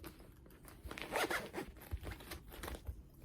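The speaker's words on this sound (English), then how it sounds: "you zip it up," A zipper closes on a fabric cross stitch yarn bag, a quick close-up rasping pull followed by a few softer handling rustles, faint and with no speech.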